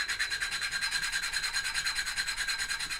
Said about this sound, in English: A lot of sanding.